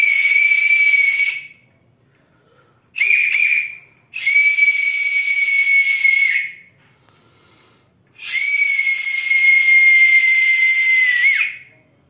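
A small conch shell found on a beach or riverbank, held between two folded fingers and blown, gives shrill, steady whistling tones: a long blast, a brief chirp, another long blast, then a final sustained note, with silent gaps between.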